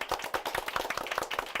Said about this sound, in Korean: 오늘 수고하신 MC께 박수 부탁드리겠습니다